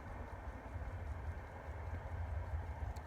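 A railway train passes near a line by Dhinda station, a steady low rumble and rolling clatter that stays constant and moderately loud, with no voices.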